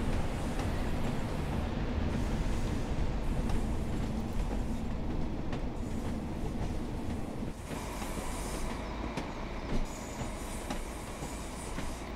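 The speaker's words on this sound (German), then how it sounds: "Und man hat richtig schön diese Schienenvernietung. Dieses Klackern." BR Class 142 train on the Blackpool Branches route in Train Sim World 4 rolls steadily, its wheels clacking over rail joints in a loud, continuous rumble with regular sharp clicks and no talking.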